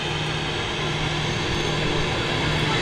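A Jet2 Airbus A321 airliner at Manchester Airport gives off a steady, loud engine roar with a low hum running underneath, holding an even level from start to finish.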